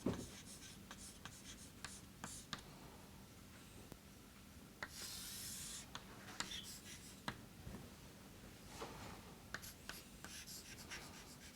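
Handwriting during a mathematics lecture on rules of differentiation gives a soft, continuous scratching and rubbing, broken by small taps as strokes begin and end. It stays faint and close, with no talk.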